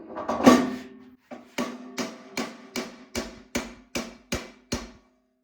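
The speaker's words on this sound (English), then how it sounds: "I'm going to take a pipe and a hammer and see if I can just push it back" A steady series of about ten sharp metallic hammer strikes on a pipe rings out at an even rhythm, each blow followed by a brief clanging decay, pushing back a stuck impeller on a Toro Power Max snow blower.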